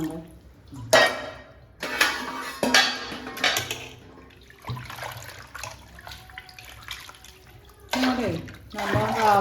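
Water splashes and pours into a pot in several bursts, with clattering of metal cookware and a person talking in between.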